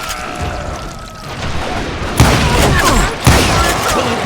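Deputized shooters open fire in the Wild West video game Call of Juarez: Gunslinger, loud gunshots and booming blasts crashing close by, with two sharp heavy bangs standing out among the volley.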